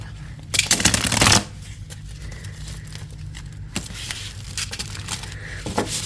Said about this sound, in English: we're going to give it a good shuffle and then pick 3 cards